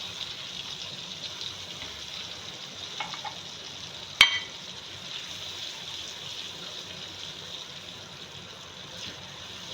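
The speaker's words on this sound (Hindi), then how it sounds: "ये मैं प्लेट में थोड़ा सा पानी डालकर इस मसाले को भी ले लूँगी।" Sizzling and gentle stirring as a little water is added to a plate of spice masala while making a green chilli, raw mango, lemon and onion pickle, a steady soft hiss with one sharp clink midway, no talking.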